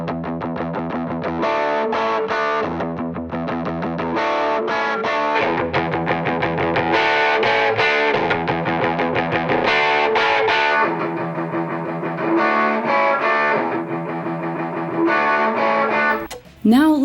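Distorted electric guitar chords ring out with roomy ambience, a steady rhythmic riff, heard through an amp from a distance via a room microphone.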